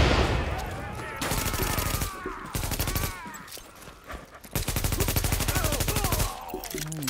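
Gunfire in The Division video game: rapid automatic bursts and sustained volleys, loud and close, starting and stopping in long stretches with brief pauses between them, with no talking.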